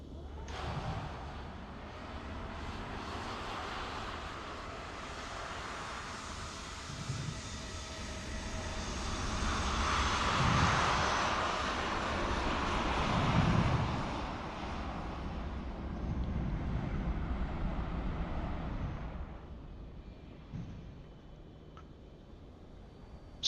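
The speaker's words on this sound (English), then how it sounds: "So we've got the Cathay Pacific cargo on its way in." A Cathay Pacific cargo plane arrives in Microsoft Flight Simulator 2024 at Atlanta airport, its engines a broad steady roar that swells toward the middle and then fades, with faint ticking beneath.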